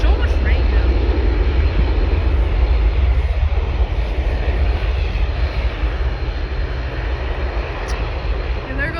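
A WestJet, Air Canada or Swoop airliner at Vancouver International Airport gives a loud, broad jet-engine roar that holds steady and eases slightly, with people talking over it.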